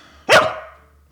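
A single loud, close dog bark rings out sharply and fades quickly, alone with no talk.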